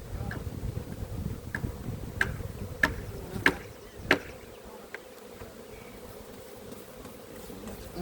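Honey bees from a newly moved first swarm hum steadily around their hive outdoors, a low continuous buzz with several sharp ticks and knocks scattered through it.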